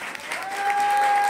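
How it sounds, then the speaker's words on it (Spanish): A live concert-gala audience breaks into loud, steady applause for a young woman singer, dense clapping building and holding strong throughout, with a sustained tone ringing above it. "quiero que recibamos con un fuerte aplauso"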